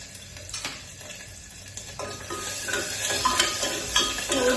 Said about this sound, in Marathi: थोडासा गॅस मी कमी करणार आहे आणि त्यानंतर मी आता टाकते लसूण.